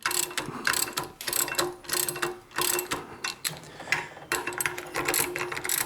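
Ratchet clicking in quick bursts while tightening valve spring compressor wedges on a VW Vanagon cylinder head, close and crisp, with short pauses between runs of rapid pawl ticks.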